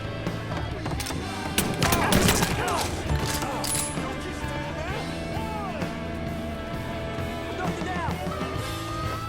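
Gunfire in Mafia III: a cluster of sharp shots near the two-second mark, then scattered impacts beneath a game soundtrack, with shouted voices nearby.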